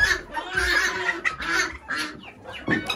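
Chickens in a coop cluck and squawk continuously at close range, with overlapping calls throughout and no speech.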